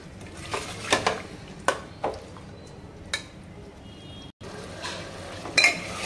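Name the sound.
frying coriander, chilies and tomatoes in a pan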